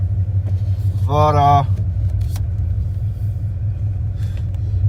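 A 1995 Dodge Ram pickup with a 5.9L V8 and welded exhaust rumbles steadily at highway speed, with a brief voice over the loud, close engine drone.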